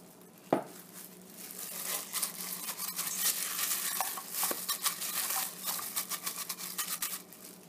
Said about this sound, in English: Now I'm going to coat it with a bit of oil.